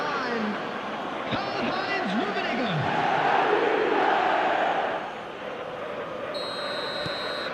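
Stadium crowd roaring in the eFootball video game, a broad, sustained swell of chanting and noise that rises, peaks, then eases, with a commentator talking over it.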